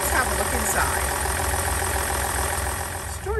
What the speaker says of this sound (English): This is a 3-liter V6 engine paired with an automatic transmission. It's an all-wheel drive and it's a diesel.